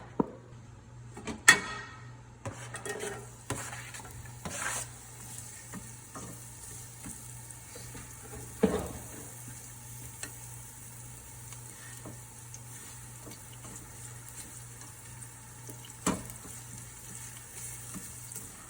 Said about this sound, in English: I'm gonna cook my shallot rings until they get pretty crispy